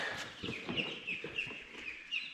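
Young chicks being moved to a chicken coop, clucking and peeping in quick repeated calls over rustling and handling noise, close and steady throughout.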